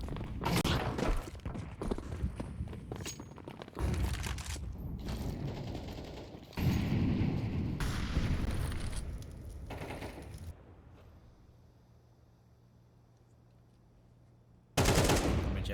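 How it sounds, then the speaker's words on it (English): Gunfire in Counter-Strike fired through a window smoke, bursts of loud rapid automatic shots in several stretches, then a quieter lull and a final sharp burst. "Just putting a few bullets through the top corner of the window smoke"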